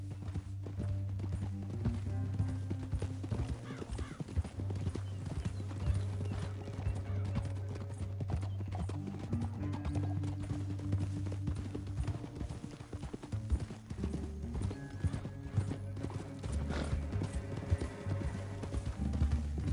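Rhythmic hoofbeats of horses galloping in Red Dead Redemption 2, with snorts and a whinny over a low, steady background rumble, continuing without a break.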